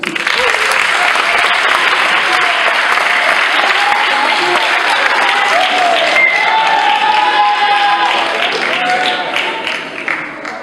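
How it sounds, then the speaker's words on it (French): An audience at a slam poetry night breaks into sustained, loud applause, dense clapping mixed with a few cheers that holds steady and then trails off toward the end. "Vous pouvez l'applaudir."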